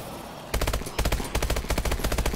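Rapid automatic gunfire from Call of Duty: Advanced Warfare starts after a short quiet lead-in, then comes in loud, close bursts of fast repeating shots with brief gaps between them.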